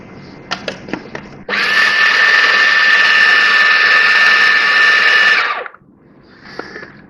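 An electric chopper whirs at full speed for about four seconds, blending boiled potato and chickpeas with a little water into paste, preceded and followed by a few light clicks and knocks.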